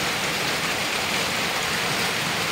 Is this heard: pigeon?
no